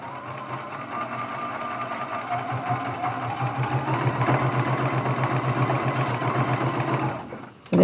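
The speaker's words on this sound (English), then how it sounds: "I'm sewing edge to edge." Sewing machine running steadily as it stitches a Churn Dash quilt block edge to edge for a Christmas ornament, a continuous close rapid needle chatter that stops abruptly at the end.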